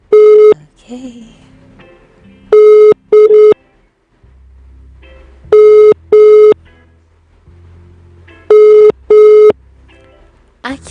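A telephone busy signal repeats loudly, with paired tone bursts at regular intervals as an unanswered call fails to connect, separated by quieter gaps with low background hum.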